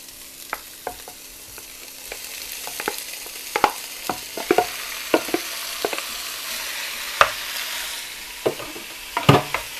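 Beef and chili stir-fried in a pan for Thai aom, with scattered scraping stirs and clacks of a utensil over a steady, soft sizzle, close and fairly quiet, no talking.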